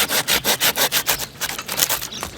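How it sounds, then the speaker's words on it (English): A handsaw cuts through a young Thompson grapevine cane with a fast, regular back-and-forth rasp of about a dozen strokes, close and loud, turning slightly looser and more irregular toward the end. "In order to do that, I'm actually gonna be using my handsaw."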